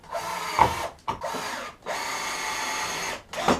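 A power drill drives screws into clamped wooden boards while a cheap gate is built, giving two or three short whirring bursts between pauses, close and moderately loud with no talking.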